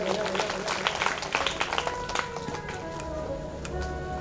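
An audience at a Shrimad Bhagavat Katha religious discourse in Ujjain claps in a patchy, uneven burst that tapers off, with someone speaking over it.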